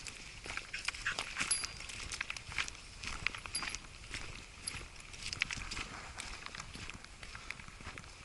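A dog passing by on a wooded park trail, with footsteps and light movement sounds crunching close by over steady outdoor background noise, and no clear barking.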